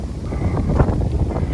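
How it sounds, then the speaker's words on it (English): Strong wind buffets an outdoor microphone at the foot of Snowdon, a loud, steady low rumble with gusty swells that fill the whole clip, with no talking. "you can probably hear, it's very windy down here."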